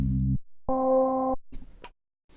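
A low Serum synth note is followed by a brighter, higher held note as the key-tracked filter opens with pitch, then a few scattered clicks and noisy bursts.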